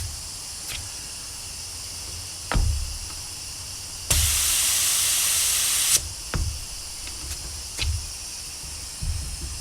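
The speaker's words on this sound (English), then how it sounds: "We're going to let air out until we get to where we're supposed to be." Air hisses out of a tire valve in one loud, steady burst of about two seconds while the tire is deflated toward 10 pounds, with scattered clicks and thumps before and after.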